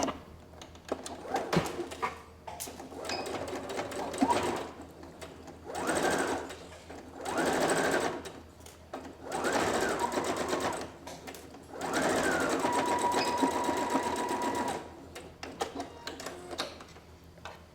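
A sewing machine stitches the seam of a fabric sewing box in several bursts of rapid mechanical whirring, separated by short pauses, close and fairly quiet.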